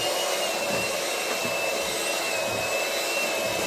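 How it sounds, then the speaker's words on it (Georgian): A powerful electric mixer blending food for a chicken salad with pineapple and cashews, giving a loud, continuous motor whine with a steady high hum, close by and with no talking. "რა თქმა უნდა მიქსერი თუ არის ძლიერი, წამში გადააქცევ."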